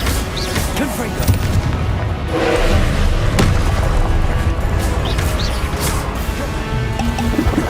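In Hogwarts Legacy, a Confringo blasting curse explodes with heavy booms and crashing thuds in a dense, continuous battle din, with a voice calling out spells over it.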